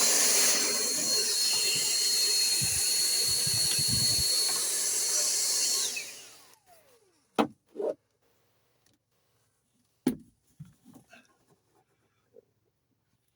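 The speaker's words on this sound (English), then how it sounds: "Hoover it up." A vacuum cleaner hoovers up metal swarf while fitting a front seat swivel base in a VW T25 T3 Caravelle GL, a loud steady roar for about six seconds before it switches off and winds down, followed by scattered knocks and clunks.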